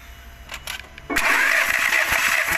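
A 1.4 TSI engine cranks over during a compression test with the throttle held fully open, a quiet lead-in giving way to a loud, close, rapid churning of the starter and pistons.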